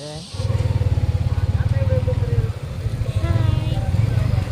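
A motorcycle carrying riders near a river rumbles steadily with a pulsing engine drone, and people talk over the engine throughout.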